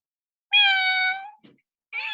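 A cat gives one clear, drawn-out meow, then a short soft sound and the start of a second meow, close up in a quiet room.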